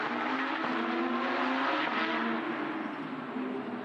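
The 4-litre flat-six of a Porsche 992 Cup race car ticking over, a steady, loud, rumbling idle with a constant hum that holds for several seconds and has no talking over it.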